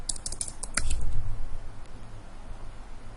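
Quick clicky keystrokes on a computer keyboard, a short burst of rapid taps near the start and then quieter background hum, with no voices.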